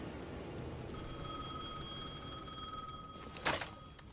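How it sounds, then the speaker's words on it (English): A telephone rings with a steady electronic trill over a dim, noisy room background, fairly faint, ending in a brief louder clatter. "The phone was ringing again."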